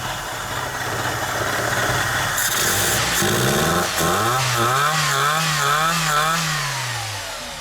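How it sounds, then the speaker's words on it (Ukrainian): A small Nissan car engine idles and sputters, revving unevenly with a rough, pulsing rhythm that rises and dips in pitch, running poorly with smoke from the exhaust. "Ну так машинка, двигунчик працює"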